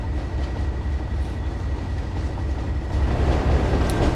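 A train runs in the video game Train Sim World on the Tees Valley Line, a loud continuous rumble of wheels and motor with a faint steady whine, rising slightly toward the end, with no voices.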